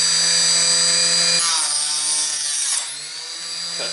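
Power saw cuts off a 300 Blackout brass case, a loud continuous high whine whose pitch shifts and dips as the blade bites through the metal, then spins on freely.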